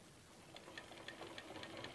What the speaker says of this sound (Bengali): ফ্রন্ট সাইডের জন্য আমি দুটাকেই অস্তর আর মেন ফেব্রিকটাকে নিয়ে সাইডে সাইডে ভালো করে আমি সেলাই করে নিচ্ছি